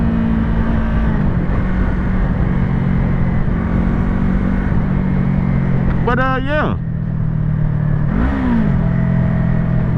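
A Yamaha YZF-R3 motorcycle engine drones loudly and steadily while the bike is ridden, with brief dips in pitch as gears shift. A rider talks over the constant engine noise.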